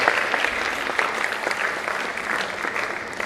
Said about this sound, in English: Please, let's give her another big round of applause.